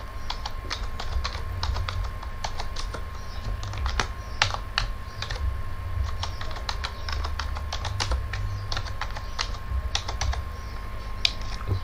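Rapid, continuous clicking of fingers typing on a computer keyboard, close and fairly quiet, with uneven bursts of keystrokes and brief pauses, under a faint steady hum.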